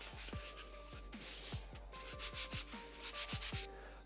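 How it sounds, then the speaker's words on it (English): Baking soda being rubbed by hand into a sticky painted piece of furniture, giving soft repeated scrubbing strokes in a quick, uneven rhythm, close and fairly quiet with no talk. "We can just cover the piece in a generous amount of baking soda, work it into the piece,"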